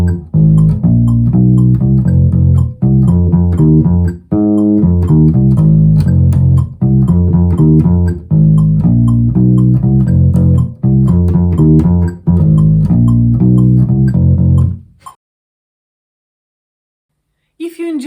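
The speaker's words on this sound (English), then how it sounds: "I will show you the same riff at the faster tempo." Funk bass riff at 120 BPM, repeated syncopated phrases with punchy low notes for about fifteen seconds, loud and alone, ending in silence with a brief note at the very end.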